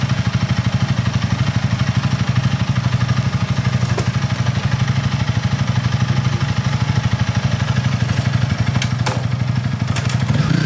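A motorcycle engine runs steadily at idle on a deserted street in −20°C Finnish winter cold, a loud, close, even rumble with rapid regular pulsing and a few faint clicks, no voices.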